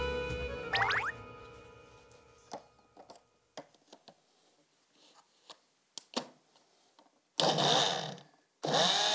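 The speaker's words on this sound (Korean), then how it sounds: "아, 믹서기를 더 큰 걸 사줘야겠다" A blender mixes a drink of beet and coconut water in short loud whirring bursts near the end, after scattered clinks and taps.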